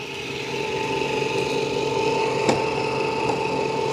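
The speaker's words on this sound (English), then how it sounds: "It's vacuuming and mopping at the same time." An Ecovacs Deebot N20 Plus robot vacuum vacuuming and mopping on a floor: a steady motor whine and brushing hum run throughout with a faint rattling texture and a small click midway, close and continuous.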